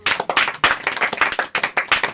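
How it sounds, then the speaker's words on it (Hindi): A church congregation at a Hindi prayer gathering claps hands in a quick, fairly even rhythm of about ten sharp claps, close and loud. "ताली बजाएंगे।"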